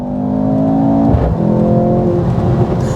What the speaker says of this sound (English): Drop the loud pedal and off we go.